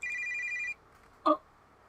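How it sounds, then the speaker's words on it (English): A phone rings inside the video game Your Turn to Die, a steady electronic trill lasting under a second, followed by a couple of brief soft clicks. "A phone?"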